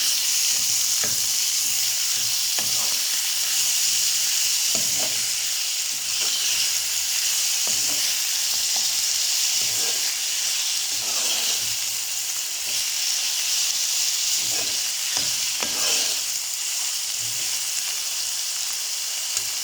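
Chopped tomatoes sizzling in a hot pan as a Telugu-style dry prawn and gongura curry is cooked, a steady loud hiss with occasional scrape-and-clatter bursts from stirring, no voices.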